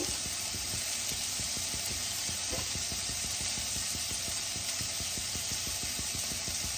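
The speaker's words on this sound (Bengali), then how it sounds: "আর হাফ চামচ হলুদ দিয়ে পেঁয়াজটাকে আমি ভেজে নেব" Onion frying in a pan with salt and turmeric for palak paneer makes a steady, close sizzle that holds at an even level with no talking.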